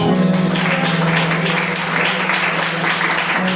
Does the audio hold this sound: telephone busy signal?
no